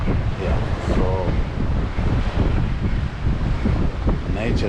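Atlantic Ocean waves roll onto the shore under steady, heavy wind buffeting the microphone, a continuous loud rush with a faint voice briefly audible.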